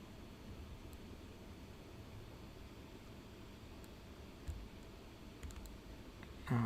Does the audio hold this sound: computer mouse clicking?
yes